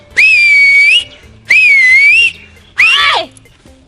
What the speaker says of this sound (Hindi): लगाव हम सीटी।